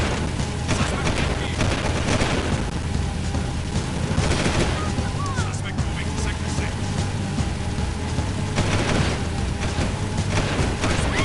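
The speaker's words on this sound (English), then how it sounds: "Shooting people are so fun." Dense, rapid gunfire in Jak II fills the whole stretch, with overlapping shots and bursts that sound like a sustained firefight with no pauses.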